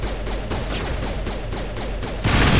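Sustained gunfire in Mass Effect Legendary Edition, a loud, close, continuous rattle of rapid shots that swells louder near the end, with no talking.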